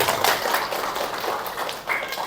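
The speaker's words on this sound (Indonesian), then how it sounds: "Tepuk tangan dong buat HNI Bapak Ibu sekalian." Audience at an HNI talk event giving a round of applause, a continuous moderately loud patter of many hands clapping with no voices over it.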